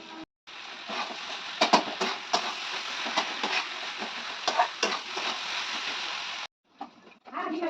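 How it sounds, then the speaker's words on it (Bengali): Food is stirred in a frying pan with salt added, producing a close sizzle broken by scraping and clattering strokes of a spatula, with a sudden drop to near silence before a brief final sizzle. "আর এটাকে ভালোভাবে আমি নেড়ে নেব"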